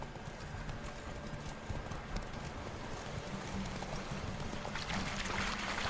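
Faint rhythmic hoofbeats of the horse Roach galloping in The Witcher 3 game, a muffled clip-clop under a hazy ambient bed that brightens near the end.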